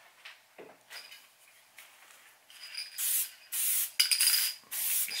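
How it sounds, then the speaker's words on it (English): Spray adhesive hissing from a can in several short bursts of about half a second each, close by, while assembling a Halloween skeleton, with softer handling sounds between the sprays. "Spray on the inside."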